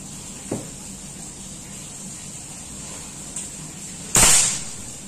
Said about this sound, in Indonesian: Tembakan ketiga.